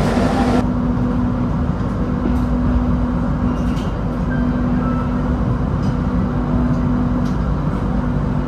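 A Kamandaka passenger train to Cilacap rumbles past nearby with a loud, continuous roar of wheels on rails and a steady mechanical drone, with no voices.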